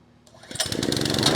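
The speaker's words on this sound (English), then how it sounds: "Sounds like a lawnmower." A plate compactor packing a castle-rock sidewalk base starts up and runs with a steady, loud, lawnmower-like engine drone close by, rising from quiet to full power within the first half second.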